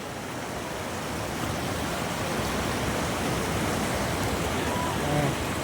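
A strong river current flowing, heard as a steady, dense rush of water that fills the whole clip without pause, close and moderately loud.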